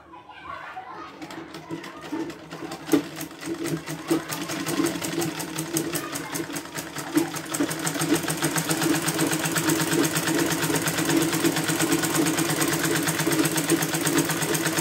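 Sewing machine stitching the sides of a crochet dress, starting after a soft moment and then running fast and steady with a rapid even chatter, a voice faint underneath.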